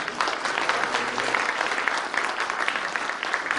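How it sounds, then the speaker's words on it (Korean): Dense, sustained audience applause for three actors and director Lee Yang-gu after a staged reading performance, a loud even roar of many hands clapping throughout. "오늘 낭독 공연을 해주신 여기 세 배우분들과 100m 미남 이양구 연출님에게 다시 한번 큰 박수 부탁드리겠습니다."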